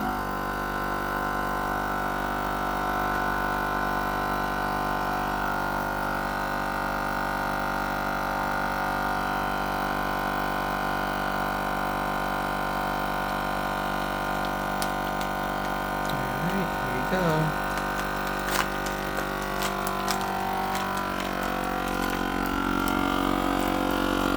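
A vacuum sealer pulls air from a bag holding a flat NY strip or top sirloin steak, its motor a steady, close hum that runs unbroken and shifts slightly in tone near the end.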